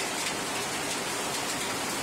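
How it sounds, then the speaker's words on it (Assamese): Heavy downpour over Guwahati during a severe storm, a steady, loud hiss of rain pounding surfaces that holds constant from start to finish with no voices. "গুৱাহাটী মহানগৰীত এতিয়া মুকলধাৰ বৰষুণ"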